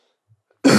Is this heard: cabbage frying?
no